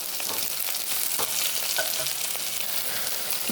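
Ingredients for kadai paneer frying on a high flame in a pan, a dense continuous sizzle with occasional stirring clinks and scrapes, close and steady without speech.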